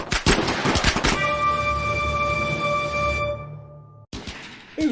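Loud bursts of rapid gunfire erupt in a raider fight, a rattling flurry of shots up front, then a lingering ringing tone before another burst of fire.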